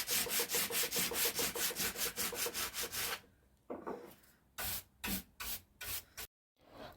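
Old wooden coffee table being sanded by hand with coarse 60–80 grit sandpaper to strip old stain, a steady run of rapid rhythmic scraping strokes, then slower separate rubbing passes with short pauses, close and fairly loud.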